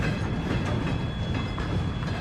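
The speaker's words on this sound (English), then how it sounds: "A huge freight train moving specialist military equipment" A huge freight train carrying military equipment rolls past on the rails with a steady, loud rumble and faint clatter, continuous and close, with no voices.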